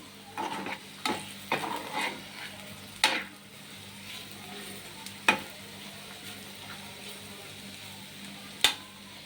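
Carrots and peas with garlic and chilli paste stir-fry in a pan, a soft steady sizzle under sharp scraping strokes of a spatula, with scattered clinks, no talking.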